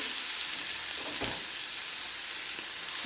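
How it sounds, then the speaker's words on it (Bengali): Bata fish frying on a tawa in hot oil over low heat, a dense, even sizzle that holds steady throughout with a faint bump midway. "তেল দিয়ে গরম করে এখন একটা একটা করে মাছ ছেড়ে দিয়ে দিচ্ছি"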